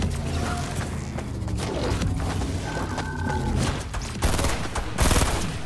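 Rapid bursts of gunfire crackle in a Fortnite match, with repeated shots, mechanical clanks and a louder volley near the end, with no talking.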